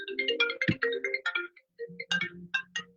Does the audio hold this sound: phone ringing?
yes